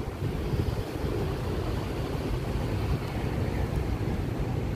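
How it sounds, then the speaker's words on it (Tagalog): Steady wind roars across the microphone, a constant low rumble with no pauses and no voices. "malamig na po ang simoy ng hangin dito sa area po ng Pasig River Esplanade"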